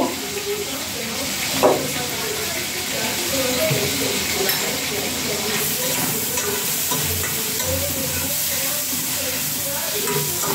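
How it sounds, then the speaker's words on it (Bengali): Shrimp frying in oil with coriander powder, a continuous loud sizzle with occasional scrapes of stirring and a brief clatter early on, steady and close throughout. "সুন্দর করে ভাজা ভাজা করবো"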